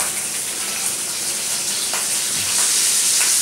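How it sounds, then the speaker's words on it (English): Bacon fries in a pan at a homestead breakfast, a steady bright hiss and crackle with a few faint pops, louder and fuller near the end, and no voices. "Cooking some bacon."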